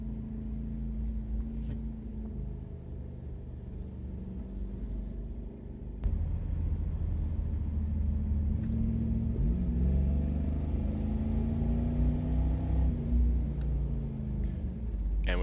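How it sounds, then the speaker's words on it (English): Low, steady rumble of a 1992 Chevrolet Camaro Z28 V8 running on a race track, heard from close by with a jump in loudness partway through and rising, falling engine tones as it works down the straight, no talking. "hear the sound of that American V8"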